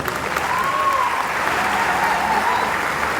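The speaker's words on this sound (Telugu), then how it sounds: "మనందరం వారు ఒక్కసారి ధన్యవాదాలు చప్పట్లు పడుతున్నాము" An audience at a pre-release film event at Shilpa Kala Vedika applauds in a thick, continuous roar of clapping from a large crowd. Faint crowd murmur runs beneath it.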